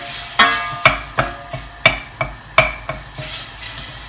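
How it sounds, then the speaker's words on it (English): Butter melting in a pan while a wooden spoon stirs it, before broccoli and Stilton soup is made: sharp scraping strokes about twice a second over a faint steady sizzle, close and with no talk. "We're going to melt all the butter."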